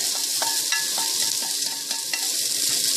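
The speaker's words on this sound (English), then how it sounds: "I'm going to add the quinoa to the water." Dry quinoa is poured into a pot of water heating on a stove over medium heat, making a steady, close hissing patter with faint grainy ticks throughout.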